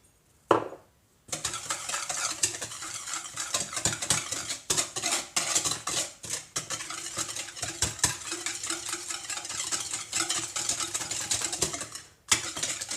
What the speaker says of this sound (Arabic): كنوضع 3 ديال البيضات ديالي كنخفقهم، كنضيف عليهم السكر